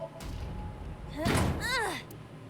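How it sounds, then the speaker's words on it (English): A door is kicked open in the video game AI: The Somnium Files, a heavy thud and slam rising to a loud burst with sliding, squealing tones, over game ambience and faint background voice. "Kick open again?"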